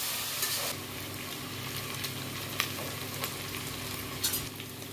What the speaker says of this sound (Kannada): ಈರುಳ್ಳಿ ಜೊತೆ ಹೀಗೆ ಚೆನ್ನಾಗಿ ಮಿಕ್ಸ್ ಮಾಡಿ ಸ್ವಲ್ಪ ಫ್ರೈ ಮಾಡಬೇಕಾಗತ್ತೆ